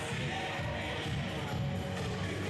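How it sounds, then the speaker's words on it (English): Crowd noise in the Lansing City Arena during a futsal semifinal, a steady, dense wash of many voices and cheering, fairly distant and continuous, with no clear individual words. "Crowd getting into it here in the Lansing City Arena"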